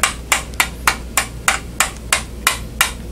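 Steady hammer blows driving a nail into a wall, about eleven sharp, evenly spaced strikes, close and clear with no talking.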